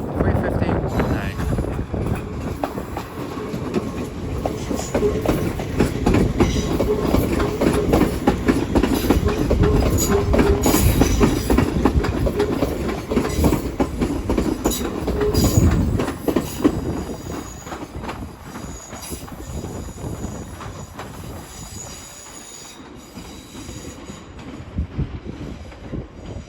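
A London Northwestern Railway train from London Euston to Liverpool Lime Street rolls into Crewe station with a loud, continuous rumble, clattering wheels and faint squeals that ease off near the end, with wind buffeting the microphone.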